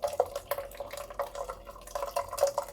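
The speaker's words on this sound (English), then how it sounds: "I'll take the ladle and I'm going to just massage the puree with the ladle" A ladle massages tomato puree through a strainer, making soft wet squelching and dripping sounds, with irregular small splats and gentle scraping close by at low volume.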